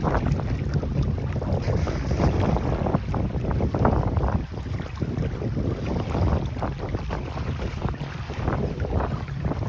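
A sailboat under sail with its engine off on the Atlantic Intracoastal Waterway, with loud, constant wind rushing across the microphone and water sloshing and splashing against the hull.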